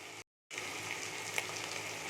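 A spiced tomato-ginger masala with cumin, coriander and turmeric fries in a pan, a bright steady sizzle close by that breaks off for a moment near the start, then carries on without talk.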